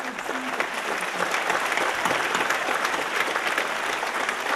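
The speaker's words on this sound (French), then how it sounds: "une bonne main d'applaudissements pour tous les gens" An audience at a French-language event applauds in a dense, steady wash of clapping that holds at an even level from start to finish, with no single claps standing out.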